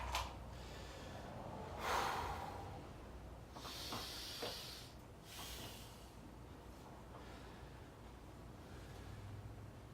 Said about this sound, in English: Yeah, breathing exercises.